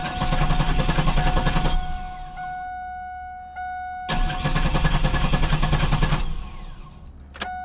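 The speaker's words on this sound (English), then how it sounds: "Let's go inside the vehicle to see if it starts." A Chevrolet Camaro engine cranks in two long bursts of rapid, rhythmic starter churning, separated by a quieter pause, then a short catch at the end; loud and close, with no talking.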